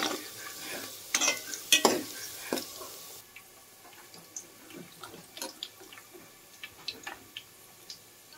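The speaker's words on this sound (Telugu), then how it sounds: "పొయ్యి మీద కళాయి పెట్టి నూనె వేసుకొని నూనె వేగాక తాలింపులు ఉల్లిపాయలు ఇలా వేసి" Onions and tempering spices hit hot oil in a kadai with a few loud crackling bursts, then settle into quieter, scattered sizzling and stirring scrapes.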